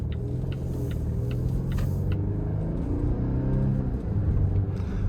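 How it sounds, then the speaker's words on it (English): Volvo XC60 Polestar engine at speed, a steady low rumble with blended supercharger and turbo whine, along with faint regular ticking in the cabin. "you do get a really cool kind of blend of the supercharger whine and the turbo whine"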